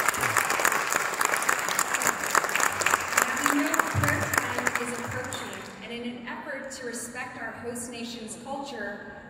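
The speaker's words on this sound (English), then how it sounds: "How about a round of applause for their members here tonight?" Audience applause for a jazz band quartet at a live evening concert, dense clapping filling the room with some talk over it, then thinning into scattered claps as instruments begin to sound through toward the end.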